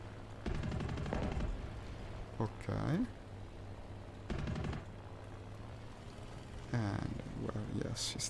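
Aircraft guns fire in War Thunder flight simulation in VR, in two or three sustained bursts over a steady engine drone, with someone talking briefly between them.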